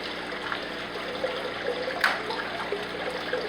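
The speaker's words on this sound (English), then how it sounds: "But you can see it here, just a dripping." Water from a drip system trickles steadily into a discus breeding fish tank, a quiet continuous dribble with faint drip accents and one slightly louder splash near the middle, close by.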